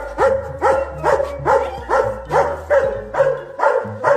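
Several dogs bark in a steady, regular rhythm of about nine evenly spaced barks, loud and close, with no talking over them.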